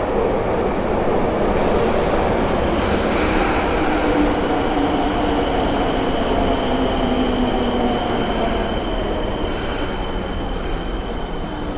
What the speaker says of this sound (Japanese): 2番線に各駅停車白楊行きが参ります